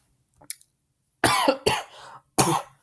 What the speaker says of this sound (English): Busy dying. From my coughs.